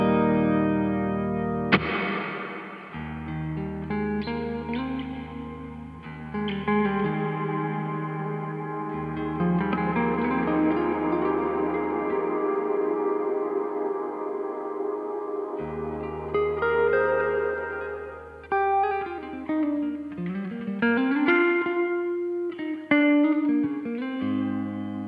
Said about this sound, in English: And this is the hall reverb.